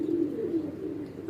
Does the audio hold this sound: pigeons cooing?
yes